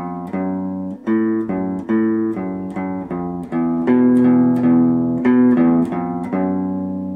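A plucked guitar plays the repeating intro riff of a song, short, evenly spaced notes that climb and fall, clear and close, with no voices.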